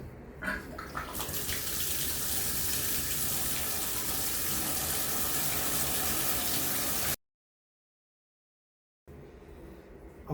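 Water gushes loudly from a repaired Moen 1222 cartridge bath and shower tub faucet in a steady rush. It cuts to silence, then returns more quietly near the end.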